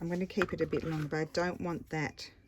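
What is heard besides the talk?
No everyday noise stands out behind the speech.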